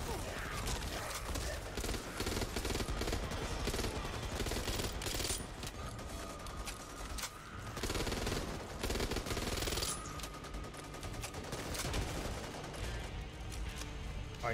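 Rapid bursts of automatic gunfire and repeated shots crackle loudly and densely in the co-op zombie shooter Back 4 Blood, with dull game effects and occasional voices mixed underneath.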